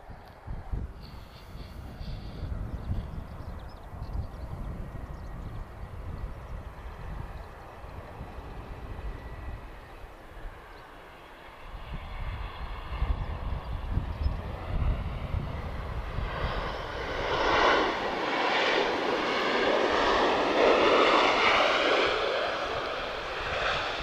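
An Airbus A320 jet airliner arriving from Ponta Delgada at Lisbon Airport, its engine roar building from a distant rumble into a loud, broad, whining rush that dominates the second half.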